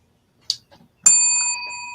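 A bicycle bell rings once, a bright metallic ding that lingers and slowly fades, preceded by a few small clicks and handling noises in an otherwise quiet space.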